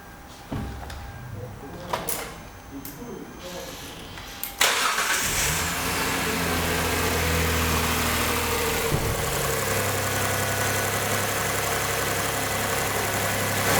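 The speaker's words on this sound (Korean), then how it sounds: "그러면 한번 시동 켜갖고 한번 들어볼까요?" A few clicks and clunks, then a car engine cranks and catches, settling into a steady, close idle with revs raised while the engine is cold, continuing to the end.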